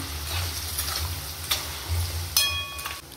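A spoon stirs spicy mutton curry in a pot, giving a soft steady scraping and sizzling with a few sharper clinks, close up and with no voices.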